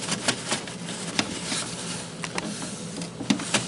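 An unpowered printer's print head slid along its rail by hand, giving soft scraping and rattling with a few sharp clicks and taps, close and alone.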